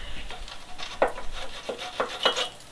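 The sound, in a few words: wire brush scrubbing brake line nut threads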